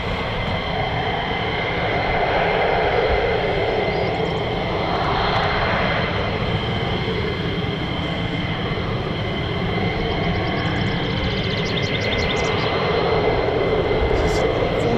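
A USAF F-15E Strike Eagle of the 494th Fighter Squadron Panthers at RAF Lakenheath roars with a loud, sustained jet engine rumble and whine, a voice talking over it throughout.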